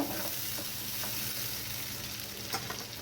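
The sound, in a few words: stirring spice paste frying for pomfret curry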